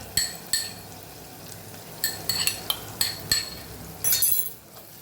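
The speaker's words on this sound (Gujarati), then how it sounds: "મસાલાને સરસ આપણે મિક્સ કરી અને સાતળી લેવાનું છે" A metal spoon clinks against a pan as red chilli powder, turmeric, coriander-cumin powder and salt are stirred for a Kathiyawadi cowpea curry. Several close, crisp taps come in uneven clusters over a quiet background.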